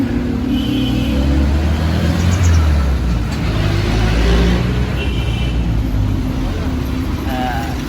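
Jeepneys and other traffic rumble along Avenida in Manila, a dense, loud, continuous roadway drone with engine noise nearby and a few faint horn-like tones.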